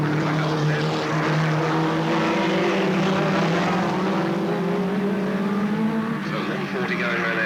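Race cars lapping Alwalton Raceway at a 1983 meeting, a steady loud engine drone with rising and falling pitch as the pack goes through, with a commentator talking over it.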